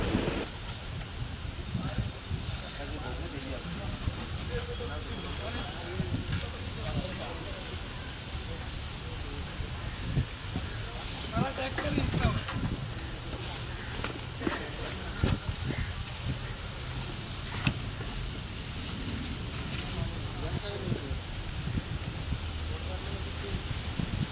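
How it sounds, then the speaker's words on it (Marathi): Strong wind buffets a small fishing boat at sea, producing continuous broadband roaring and rustling, with occasional thumps and a voice talking underneath. "वारा बघला असेल तुम्ही, बेकार वारा जलता"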